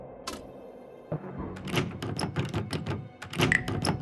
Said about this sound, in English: The door to the lounge.